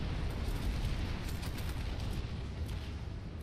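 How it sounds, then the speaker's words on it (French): A vehicle blowing up in a multiplayer video game, heard as a dense, rumbling explosive roar that spreads into several seconds of continuous noisy crackle with no voices. "Il a pris des dégâts avec l'explosion de son véhicule"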